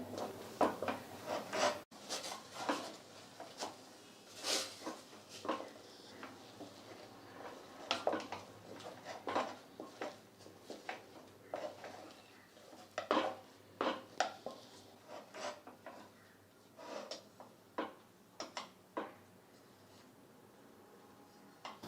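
A wooden spoon stirs bajra (pearl millet) flour dough in a pot, making irregular scraping and knocking strokes close up at a steady working pace, with no talk.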